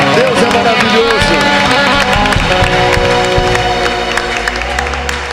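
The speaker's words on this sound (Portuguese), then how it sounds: "Vamos aplaudir o Senhor Jesus." A church congregation applauding, with loud clapping and cheering layered over music with sustained tones, staying full and energetic throughout with a slight fade toward the end.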